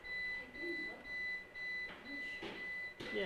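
A UPS buzzer sounding during a power switchover, emitting a faint, steady high-pitched tone that continues throughout, with scattered bursts of noise and muffled voices in the room.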